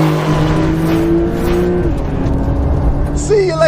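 A Porsche 911 Carrera S, 992 generation, pulls hard against a C8 Corvette in a drag race, its engine revving up through gears with a shift and rising pitch. Loud and close, heard from inside the car.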